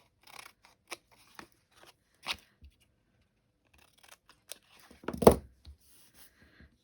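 Scissors snip through a strip of card in a series of sharp, close cuts spread across several seconds, ending in a louder cluster of crisp snips.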